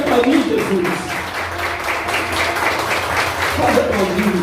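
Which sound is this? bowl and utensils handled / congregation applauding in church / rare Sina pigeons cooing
congregation applauding in church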